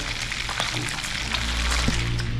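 Oil sizzles and crackles steadily in a pan as fish fries, a close, continuous hiss with scattered pops.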